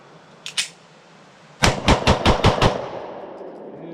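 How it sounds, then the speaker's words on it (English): Gunshots from a Mossberg MC1 SC 9mm Luger pistol, a light, small handgun: two quick softer shots, then a pause and a rapid string of six loud, sharp reports in even rhythm, each with a short ringing tail. "Just shooting it to sing some rounds downrange."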